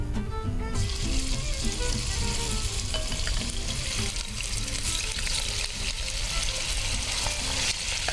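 Chicken pieces frying in hot cooking oil in a home kitchen, a steady loud sizzle that rises sharply at the start and holds continuously throughout, with no voices over it.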